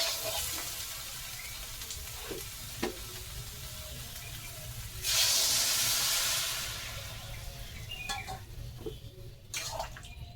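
Water hits fried soybean curry in a hot pan, setting off a loud burst of sizzling hiss that swells for about a second and then settles back into steady frying crackle, with a few utensil clinks.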